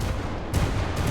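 Projectiles burst like fireworks on impact in the Wreckfest racing game, giving three sharp crackling blasts about half a second apart. They are loud and close, with no talking over them.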